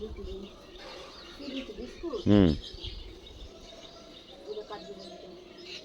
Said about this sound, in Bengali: দেখো এই পাখিগুলো, এই ঝগড়ুটে পাখিগুলো চলে এসছে, ঝগড়া করে cat cat cat cat cat cat cat